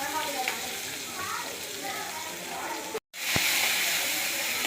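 Onion and two slit green chillies sauté in hot oil with mustard seeds, urad dal, fenugreek and asafoetida, producing a loud, continuous close sizzle with a brief break and a spoon scrape near the end.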